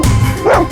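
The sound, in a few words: dog Sheru barking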